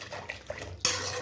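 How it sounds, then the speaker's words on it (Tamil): Mutton cooking stock poured into a pan of mutton gravy: a few soft clinks of a pot and utensil, then a sudden steady, splashing pour that continues to the end. "அந்த தண்ணியோடு சேர்த்து அப்படியே ஊற்றுறோம்"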